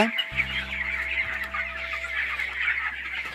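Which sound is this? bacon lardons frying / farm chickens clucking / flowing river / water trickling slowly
farm chickens clucking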